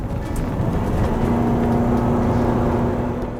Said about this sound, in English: although if you gun it away from the lights, the engine will rev up pretty quickly